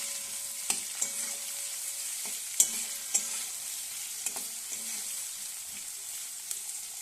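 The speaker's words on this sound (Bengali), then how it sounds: "পেঁয়াজটাকে ভালো করে ভেজে নিচ্ছি একটু লাল লাল করে" Onions frying in a pan until reddish-brown, a steady soft sizzle broken by several sharp clacks and scrapes of a spoon stirring against the pan.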